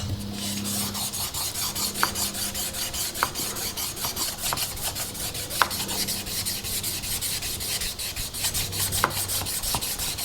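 A chisel or plane blade's back being flattened on a 1200 grit sharpening stone, producing a steady rhythmic rasping scrub of steel on wet stone, close and continuous, with occasional light knocks.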